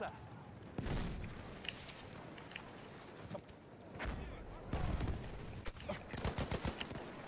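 Gunfire in the World War I shooter Battlefield 1: scattered sharp shots early, then a denser run of rapid bursts in the second half over a busy battlefield background.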